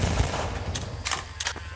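Gunfire in Half-Life 2, a few quick close shots among low rumbling game ambience, ending in a short burst of cracks.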